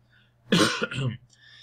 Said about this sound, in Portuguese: Como vocês podem perceber, eu continuo tossindo.